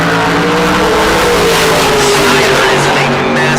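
Drag racing cars, including a blue 1968 Camaro Roadster, launch off the starting line with a loud, sustained engine roar and revving that fills the whole moment without letting up.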